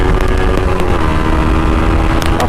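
Close, loud Yamaha MT-15 V2 motorcycle engine running with a rough rumbling drone and a few brief crackles, heard alone without speech.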